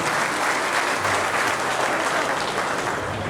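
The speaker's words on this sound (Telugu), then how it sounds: "దానికి ఎవరు సహకరించాలని చప్పట్లతో గట్టిగా తెలియజేయాలి" Crowd at a BJP procession rally in Kakinada claps loudly and steadily, a dense, continuous wash of applause throughout with no talk.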